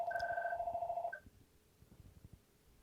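A telephone trills with two steady electronic rings in quick succession, then cuts off, leaving a quiet room with faint background noise.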